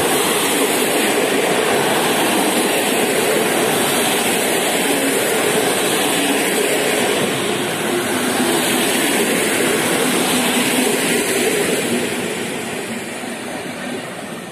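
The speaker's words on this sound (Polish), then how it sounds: "Wjeżdża pociąg Intercity Podlasiak relacji Świnoujście-Suwałki z wagonami do Ełku." An Intercity Podlasiak passenger train hauled by an EU160 electric locomotive rolls into a Polish station, a loud, continuous rush of wheels and carriages close by, easing slightly in the final seconds.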